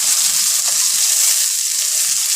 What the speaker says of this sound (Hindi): इसको अच्छी तरह भून लेंगे हम।